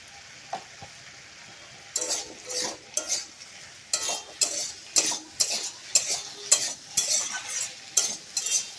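A spoon stirs a rohu fish curry with potato and taro in a pan, making rhythmic scraping strokes about once a second over a soft sizzle, close and clear.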